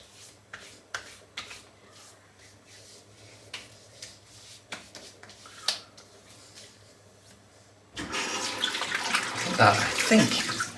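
Tap water runs into a basin to wet hands before a face shave, a steady splashing gush that starts abruptly after several seconds of quiet clicks and handling noises, close and fairly loud.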